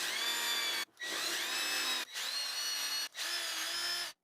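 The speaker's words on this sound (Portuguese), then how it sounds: "Eu faço os furos em ambas as peças." A power drill bores dowel holes into wooden pieces held in a dowelling jig, four close, loud whining runs, each with a brief pause between and the pitch dropping slightly as the bit bites.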